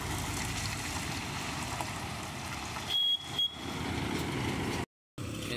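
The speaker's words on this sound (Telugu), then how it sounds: "ఇది టిప్పర్ లోడెడ్దే దిగుతుంది." A loaded Ashok Leyland tipper lorry with 14 tyres, carrying a heavy load down a ghat road, gives off a steady broad rumble and roar that is cut by a brief dropout near the end.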